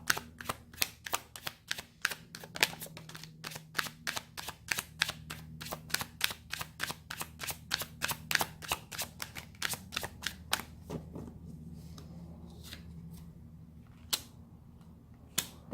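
Tarot cards are shuffled by hand in a quick, crisp train of close clicks and riffles that thins toward the end into a few separate snaps, with no talking.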